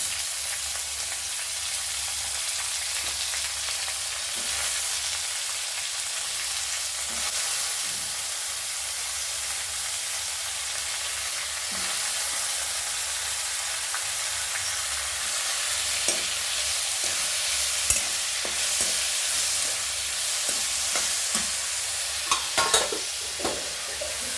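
Onions frying with cumin seeds, mustard seeds and curry leaves as the base for a tomato curry, a steady close sizzle with occasional stirring scrapes and small pops, no talking.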